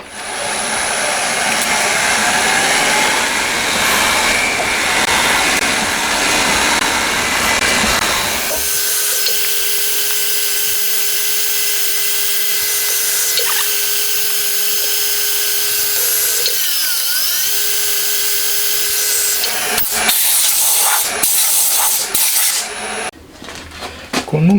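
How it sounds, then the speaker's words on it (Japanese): A metal part is center drilled on a machine while building a Honda RC146 replica top bridge, a steady tonal cutting whine with metallic ringing and scraping, continuous and close, with a change in pitch partway through. "まずはセンタードリルだね"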